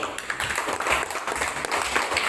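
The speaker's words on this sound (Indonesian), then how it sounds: "Tepuk tangan untuk kelompok 1." Students in a classroom clap for a group, a short burst of uneven hand claps from a small crowd, close and fairly lively, with a few voices mixed in.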